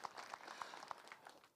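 Applause for Director Wanyaga at an International Nurses Week 2025 celebration, a steady, fairly faint patter of many hands clapping with a few sharper individual claps standing out, and no talk over it.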